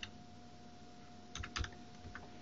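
A few quick keystrokes on a computer keyboard, faint soft clicks clustered near the middle, over a quiet steady background hum.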